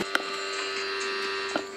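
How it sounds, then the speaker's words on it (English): Steady running hum of a home projector's fan and motor, constant and close, with a couple of small clicks and no voices. "it's my projector."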